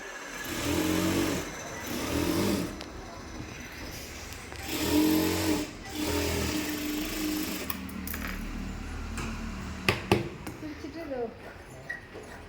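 A sewing machine stitches around the neck of a blouse lining in several bursts of steady, close whirring, each speeding up and easing off, with a voice talking over parts of it and a few sharp clicks near the end.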